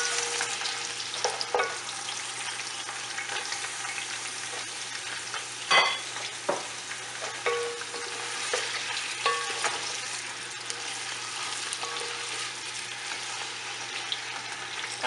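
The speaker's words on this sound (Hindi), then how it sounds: "हमारा प्याज जो है ये लाइट गोल्ड हो चुका है।" Onion fries with two bay leaves in a pot for haleem, turning light gold as it is stirred; a constant close sizzle carries repeated spoon scrapes and a few sharper knocks against the pan.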